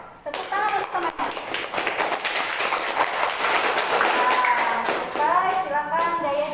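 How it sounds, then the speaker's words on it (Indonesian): Schoolchildren in a classroom clap for classmates after a group presentation, a loud dense burst of rapid clapping with mixed voices and chatter throughout, continuing under talk. "Tepuk tangan untuk teman-teman."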